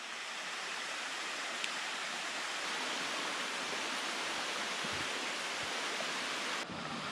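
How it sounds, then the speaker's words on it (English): A large waterfall on Flat Laurel Creek in Pisgah National Forest, heard from a bridge, gives a steady, full rushing roar that stays constant throughout, with no voices. "We are coming along Flat Laurel Creek Trail, and we found this huge waterfall"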